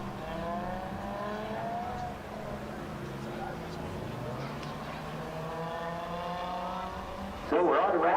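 Pickup trucks, including a Raptor truck, race at Delaware Speedway, their engines droning and rising in pitch as they pass, distant and continuous, with a sharp louder burst at the end.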